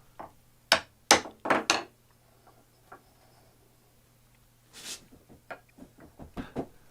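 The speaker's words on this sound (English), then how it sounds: "So I just slide it in place and give it a couple of taps" A woodworking vise end cap is tapped into place with a quick cluster of four sharp, close knocks, then a few softer scattered taps over a faint steady hum.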